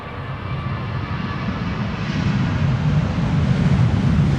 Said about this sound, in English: KLM 737 going to Helsinki.